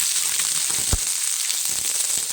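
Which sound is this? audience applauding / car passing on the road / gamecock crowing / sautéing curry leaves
sautéing curry leaves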